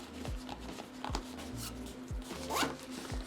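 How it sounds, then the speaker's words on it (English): A zipper closing a dopp kit toiletry bag runs in a few quick, close rasping pulls, heard alone with no talking. "Can zip it up really easily."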